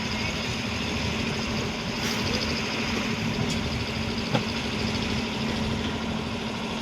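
A fishing boat's engine drones at Okha harbour during stormy weather, a steady, continuous mid-pitched rumble with no break or change in rhythm, fairly loud and close.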